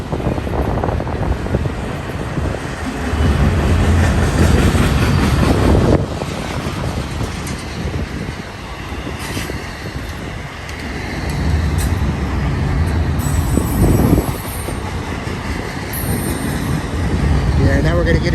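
A BNSF intermodal freight train rolls through Cajon Pass at Blue Cut, a continuous loud rumble and clatter of wagons passing near, with wind buffeting the microphone and a voice talking over it at times.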